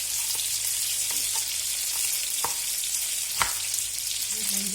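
Chopped onion and a garlic clove sautéing in a pan, a steady loud crackling sizzle with a few sharp stirring clicks, no voices.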